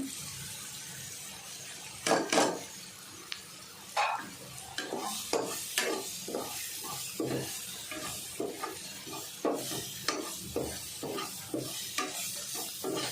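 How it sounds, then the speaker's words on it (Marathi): Chicken keema and spices sautéing in a pan over low gas, with a steady soft sizzle and repeated scraping, clanking strokes of a spoon stirring and tossing the mince throughout. "आणि हा किमा टाकते गॅस कमी करते मी याला परतून घ्यायचं चांगलं"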